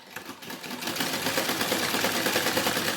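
A sewing machine runs steadily while stitching the lined hem of a blouse, its rapid needle chatter continuous and close, with no voices over it.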